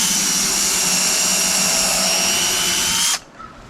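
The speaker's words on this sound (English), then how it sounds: "just take a normal drill, 1/8 inch drill bit, and pre-drill a small hole for your target" A power drill with a 1/8 inch bit pre-drills a small hole in plywood, a steady loud whine running close and alone for about three seconds before cutting off abruptly.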